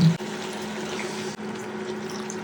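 Vinegar pours steadily into a pot of paksiw with pork and milkfish, a soft continuous liquid stream close by with a couple of small clinks, no voices.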